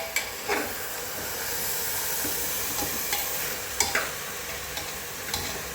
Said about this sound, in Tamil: இந்த ஸ்டேஜில் ரைஸை போட்டுடணும். அதையும் போட்டு இதோட கலரி விட்டுருணும்.